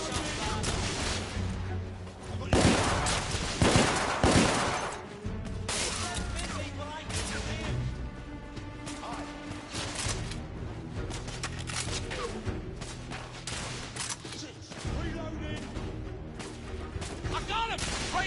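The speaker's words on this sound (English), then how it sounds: "I'm taking heavy fire!" Heavy gunfire in The Order: 1886, bursts of shots and impacts with louder volleys early on, mixed under shouting voices and music throughout.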